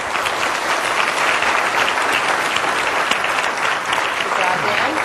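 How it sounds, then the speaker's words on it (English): Audience applause for panelists at the 2nd Annual Take Our Kids To Lunch event, a steady, dense wash of many hands clapping that holds at even loudness throughout, with no talk over it. "Let's get a big round of applause for our panelists today"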